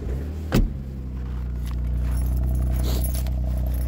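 A MINI Clubman Cooper with a 1.5 three-cylinder engine starts on a cold day: a brief key jingle and click, then the engine catches and settles into a steady, close idle rumble.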